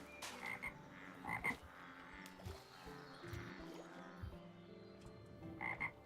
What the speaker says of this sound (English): You hear the ribbits? Oh, you hear some ribbits? Where are the ribbits coming from?